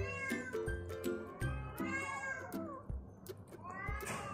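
Village kittens meow repeatedly and close up, a series of short, insistent cries overlapping one another against a quiet background.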